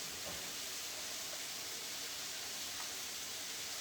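Mushrooms and onions cooking in a pan give a steady, even sizzle that holds at a constant level throughout, close by and alone with no voices.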